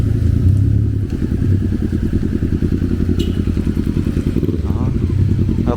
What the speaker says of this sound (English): A good motorcycle.